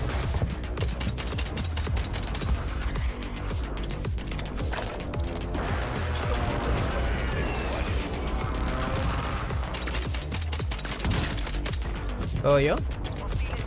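Gunfire in the battle royale shooter Warzone: rapid bursts of shots and impacts throughout, with a player talking over the steady gameplay noise.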